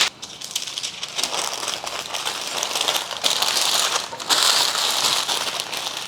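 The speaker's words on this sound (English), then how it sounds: "I can just wrap in parchment" Parchment paper crinkling and crumpling as food is wrapped like a deli sub, close and continuous with sharp rustling bursts throughout, no talking.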